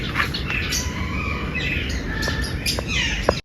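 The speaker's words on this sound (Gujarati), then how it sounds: "હવે અહીંયા છે ઝેબ્રા ફિન્ચ અને જાવા ચકલી" Zebra finches and Java sparrows at a zoo aviary chirp and tweet in quick, scattered bursts, moderately faint over steady background noise, with overlapping high calls throughout.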